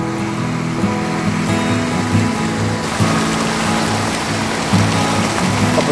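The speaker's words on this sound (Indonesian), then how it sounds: "Ini kondisi kolam air deras di malam hari ini." Water rushes steadily through a flow-through carp pond at night, running strong after afternoon rain, a dense continuous roar with a low hum and a few faint knocks, no voices.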